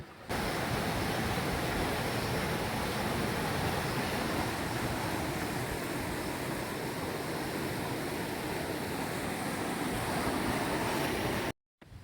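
Water rushing steadily along a canal near the Thenperambur Dam, a loud, unbroken wash of flow that holds at one level and drops out sharply just before the end.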